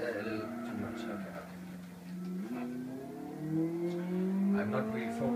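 Car engine from the racing game Live for Speed rising and shifting in pitch through steady revving, accompanied by someone talking over it throughout.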